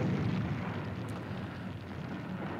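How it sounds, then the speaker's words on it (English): Explosions in the control room of a Thunderbirds puppet TV episode make a dense, sustained roaring rumble that stays loud throughout, with no voices over it. "explosions in the control room"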